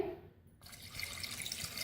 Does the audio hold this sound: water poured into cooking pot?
yes